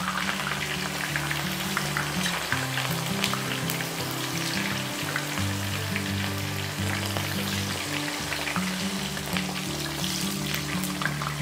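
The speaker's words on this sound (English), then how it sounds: "When the oil is hot, it's time to fry our tofu until it's golden brown on medium-high heat" Tofu frying in hot oil on medium-high heat for Indonesian tofu sambal, a steady crackling sizzle with scattered pops, close and continuous, no voices.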